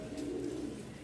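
A pair of Lotan pigeons, a male and a female, coo softly in a steady, low murmuring call that runs through the whole moment, close by and without talk.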